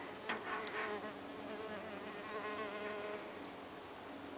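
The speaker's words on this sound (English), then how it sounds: "That blue mason bee really likes that hole there." Blue mason bees buzz around nesting tubes, a continuous close, wavering drone of several insects flying near the nest, with no talk.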